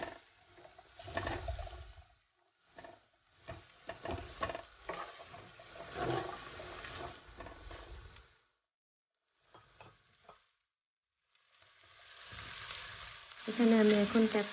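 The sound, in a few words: stirring beef pasta sauce with green chillies and salt in a pan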